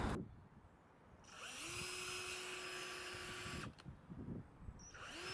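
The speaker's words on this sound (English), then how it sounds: "here I was doing a bit of drilling for the mortise" A power drill bores into wood for a mortise, spinning up and running in a steady whine for a couple of seconds, then stopping and briefly starting again, close and fairly quiet.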